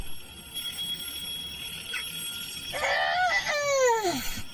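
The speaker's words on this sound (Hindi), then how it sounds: "ये पौने 7 का अलार्म किसने लगा दिया इसमें?" An alarm clock rings with a steady electronic tone. A louder, wavering cry-like sound then rises over it and falls away.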